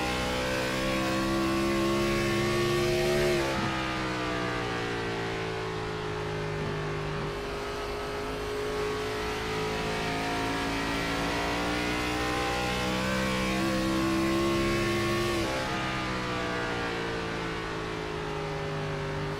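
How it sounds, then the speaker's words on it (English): Race car engine heard onboard in a sim racing game on an oval at Iowa, a loud continuous high-revving drone with harmonic pitch sweeps rising and falling through the turns and brief dips as the revs shift. "Let's ride on board with Kevin and see what he's doing inside the cockpit of that race car."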